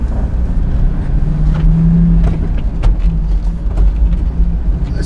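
A Jeep Wrangler with a rebuilt NSG370 six-speed transmission and a short-throw B&M shifter drives along with a low, steady engine and road rumble, swelling briefly early on. Heard from inside the vehicle, with no talking.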